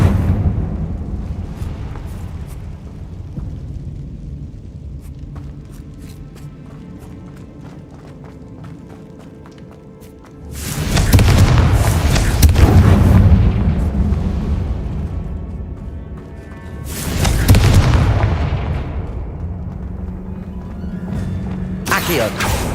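Confringo fire spells in the Hogwarts Legacy video game burst as two loud booming blasts with rumbling roars. They rise over a quieter background of game sound, and a voice calls out spell names.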